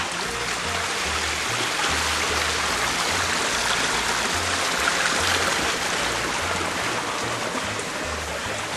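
Creek water rushing steadily over a creek bed at a prospecting outing, a loud continuous broadband flow close by, with no talk.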